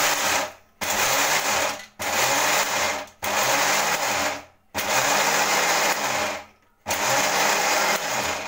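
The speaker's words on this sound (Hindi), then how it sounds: "ये हमारा मिक्सर है, इसमें हम दरदरा पीसना शुरू करते हैं।" Kitchen mixer grinder coarsely grinding, loud whirring bursts of about a second each, repeated in pulses with brief silent pauses between them, heard up close.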